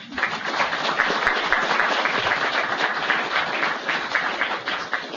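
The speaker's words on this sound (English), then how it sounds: "So give yourselves another round of applause." An audience at the National Hurricane Center breaks into steady, dense applause, many hands clapping together at even strength throughout with no voices standing out.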